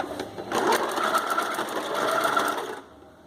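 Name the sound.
home sewing machine stitching a bikini cup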